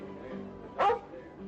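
A single short bark from a collie, heard close and clear over a quiet background hum.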